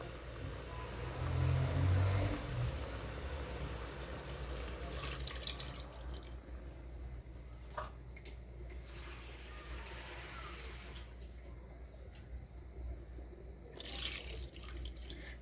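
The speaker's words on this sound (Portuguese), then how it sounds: "Eu vou colocar água para cobrir ele e um pouco de sal para cozinhar." Water is poured into a pot to cover seared chicken: a soft splashing pour at first, then a low trickle that fades to quiet, with no talk.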